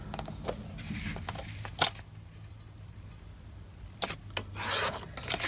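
Card stock paper is cut into strips, with a few brief, quiet rasping slices close by. The cuts are separated by soft handling noise, and there is no talking.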